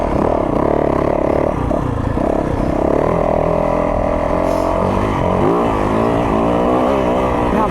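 A 2023 Yamaha YZ450FX dirt bike engine revs hard and loud throughout, with rough clattering and scraping as the bike is ridden close by.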